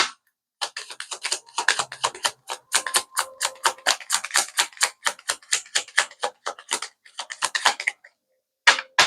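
Rapid bursts of crisp card-riffling clicks repeat in quick succession, with brief pauses between rounds, close and fairly loud, no voices.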